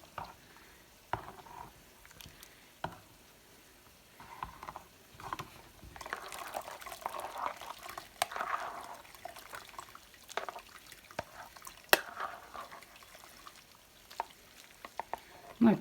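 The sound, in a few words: stirring cheese curds so whey drains out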